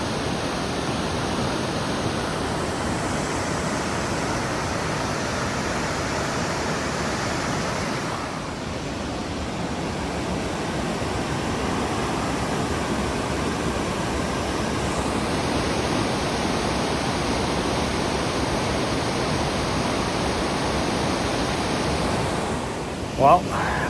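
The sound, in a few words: waterfall in a Pacific Northwest rainforest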